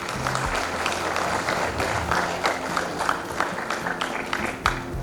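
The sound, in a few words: audience applause for student band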